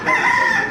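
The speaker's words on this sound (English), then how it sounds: "Lots of chickens around." A rooster crows once, loud and close, at a beach bar on Brewers Bay in Tortola; the call is a sustained, strained cock-a-doodle-doo with no talking over it.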